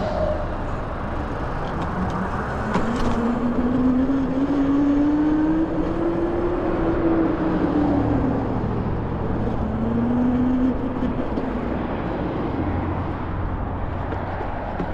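A Bafang hub motor driven by a Flipsky 75100 Pro V2 controller gives off a steady electric whine that rises in pitch, falls away, then briefly rises again over a constant background rumble.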